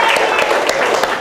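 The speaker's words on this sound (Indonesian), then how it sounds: "kalau nggak ada kita beri tepuk tangan." A classroom full of people clapping together, a dense burst of applause up close, with voices mixed in.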